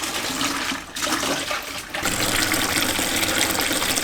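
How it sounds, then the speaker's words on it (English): Dirty water drains from a small portable washing machine's hose into a bucket, a loud steady gush and splash that dips briefly twice before running on strongly, close by. "now that I'm done the wash cycle, I can start the draining"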